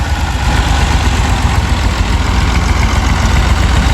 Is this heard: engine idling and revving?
yes